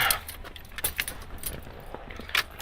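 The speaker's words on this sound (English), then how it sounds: "you need to put your keys in." Car keys jangling during dashboard work on a 1999–2004 Jeep Grand Cherokee WJ, a close, bright metallic rattle in several short bursts with brief pauses between them, heard alone.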